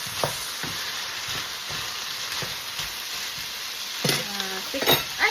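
Leafy greens sizzle in a pan while a utensil stirs them in regular scraping strokes, and metal clinks and knocks against the pan toward the end.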